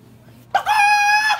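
A voice imitates a hen clucking in a single short, loud, drawn-out squawk after a moment of quiet.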